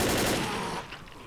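Rapid bursts of gunfire cut through a zombie shootout in the video game Left 4 Dead, loud and dense for most of the second before dropping away.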